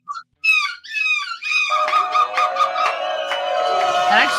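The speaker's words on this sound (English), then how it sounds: "That actually does sound like a seagull." A seagull-like cry: a few bright, squawking calls, then a dense, harsh, warbling stretch that carries on loudly to the end.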